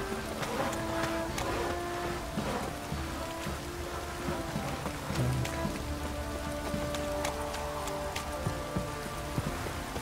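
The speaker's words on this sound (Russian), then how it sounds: "Велен теперь просто покрылся дождем" Rain falls in the Velen region of The Witcher 3 video game, a steady close patter of drops on surfaces with a soft hiss and faint low tones beneath.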